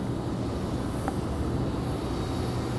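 Piper light aircraft at Raleigh-Durham airport, a steady engine drone heard at a distance under broad outdoor rumble and hiss, holding even for the whole stretch.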